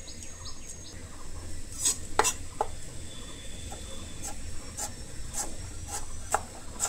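A knife slices potatoes very thinly for Bengali fried potato sticks, giving a series of quiet, crisp cutting ticks spaced through the clip over soft background noise, with no talk.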